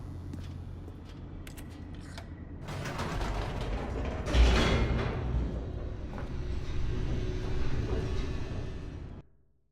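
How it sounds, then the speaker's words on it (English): An elevator descending in The Stanley Parable, a low mechanical rumble with creaks and ratcheting clanks building to a loud jolt, then a steady grinding ride that cuts off abruptly, no talk. "The elevator raced downward,"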